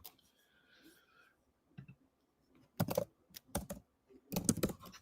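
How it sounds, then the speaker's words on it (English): Computer keyboard typing, after faint background sounds: sparse clicks, then two bursts of close, crisp keystrokes, the last a dense flurry. "I'm literally typing that in."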